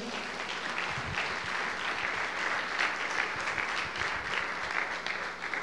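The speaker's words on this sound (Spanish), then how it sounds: "Dale un fuerte aplauso a Dios." Steady, dense applause from a church congregation fills the whole stretch, moderately distant and even, with no talking over it.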